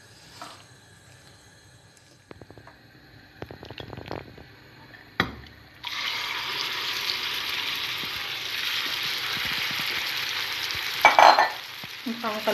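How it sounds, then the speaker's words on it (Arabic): Pastry parcels with chicken marinade hit hot oil in a pan, bursting into a loud, steady close-up sizzle after a few quiet clinks and taps. "نبقاو نقليو فيها"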